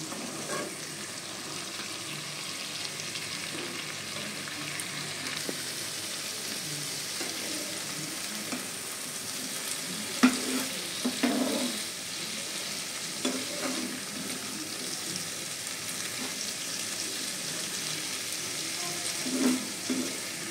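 Fish curry masala of onion, garlic, ginger, cumin, tomato and green chilli sautéing in a pan, a soft constant sizzle with occasional scraping stirs and clinks.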